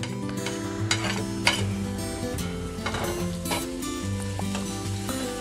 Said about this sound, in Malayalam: ക്യാരറ്റും സവാളയും പച്ചമുളകും എല്ലാം ചേർത്ത് നമ്മൾ നല്ലപോലെ അതൊന്ന് വഴറ്റിയെടുക്കാം